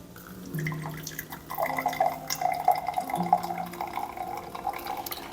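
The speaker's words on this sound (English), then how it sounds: "This is still dripping." Coffee drips through a Sibarist paper filter, a quiet run of small irregular drips and trickles close by over a low background tone, with no talking.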